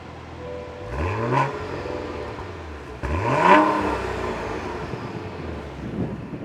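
A Cadillac Blackwing engine fires up and revs twice, each rising blip easing back to a rumbling idle, recorded outdoors with some wind noise.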